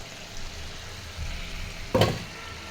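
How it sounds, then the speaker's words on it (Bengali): Potatoes sizzling in hot oil, a soft steady frying hiss with a low rumble, then a sudden louder burst of spattering as the food is stirred or added. "এটা তেলটা ছাড়ে দিচ্ছে, এখন চালাই দিব আলুগুলো।"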